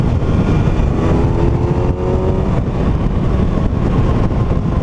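A 2019 Kawasaki ZX6R motorcycle pulls in sixth gear at around 50 mph, giving a steady, loud engine drone mixed with heavy wind rush that holds constant throughout.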